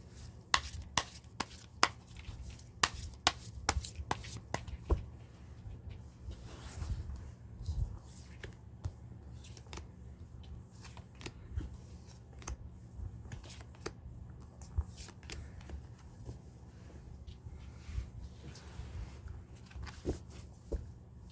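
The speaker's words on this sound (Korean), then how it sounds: "카드 셔플은 끝났고요." Tarot cards being shuffled up close: a series of sharp snapping riffles early on, then a long stretch of softer continuous rustling and tapping, with no clear talking.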